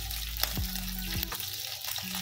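Sponge gourd and misua fry in oil in a pan, giving a steady, broad sizzle throughout with a few low clanks or stirring knocks near the start and a brief sharper tick.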